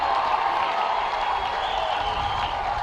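A big football crowd roars in a continuous loud wash of cheering after a goal in the 2018 Bendigo grand final, steady and unbroken throughout.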